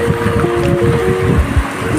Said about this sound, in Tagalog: Ito mga kalods, yan, mula na sa amin dito, bumabagyo.